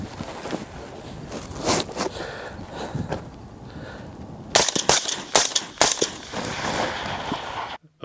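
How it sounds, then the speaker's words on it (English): Suppressed rifles fitted with Gemtech suppressors, an HVT stainless can and a G5-T, fired in a dual-wield string of eight shots: sharp, close, moderately loud reports in two bursts, with handling and clatter between. "I'm gonna dual wield here and shoot 4 shots with each rifle."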